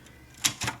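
Two quick typewriter key strikes, the first a backspace and the second a period, close and crisp, less than a second apart on a manual typewriter.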